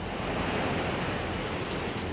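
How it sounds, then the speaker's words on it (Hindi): Sea waves break at Murud beach in Raigad, Maharashtra, in a loud, steady wash of surf that rolls on for two seconds with no voices. "समंदर की ये लहरें किसी भी वक्त मौत की आहट बन सकती हैं"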